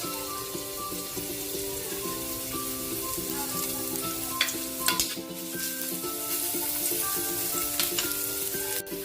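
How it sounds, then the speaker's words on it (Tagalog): Garlic sizzles steadily in a little cooking oil as it is stirred in a pan for ginisang sayote, a close, continuous frying hiss with occasional louder crackles and no talk. "Tingnan natin na konting mantika. Sabay na natin yung ating bawang."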